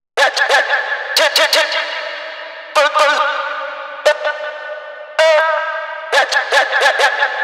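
Sliced vocal chops in a Schranz-style techno track, sounding as short bursts of clipped, echoing syllables in uneven clusters, each trailing off with delay repeats and reverb tails, loud and close with no other talk.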